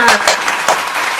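Children clap their hands in a Sunday school service, a brief patter of uneven claps, moderately close, with a voice talking alongside.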